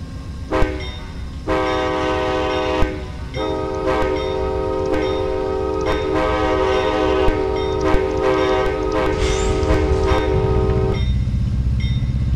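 A locomotive horn in a train video game, likened to a K5 horn on an Amtrak P42, sounds in a series of long and short blasts over a steady rumbling engine, fairly loud and close, with no voices.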